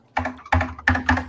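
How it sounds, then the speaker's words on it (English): Loud mechanical computer keyboard with an echoing, hollow build, typed in four quick bursts of clacking keystrokes, close and clear with no talking. "I love how typing on the keyboard feels and sounds."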